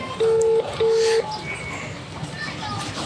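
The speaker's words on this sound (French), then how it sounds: "Le téléphone de Gloire est en train de sonner." Ringback tone of a telephone on an outgoing call: two short, steady, evenly spaced beeps in quick succession, followed by quiet background murmur.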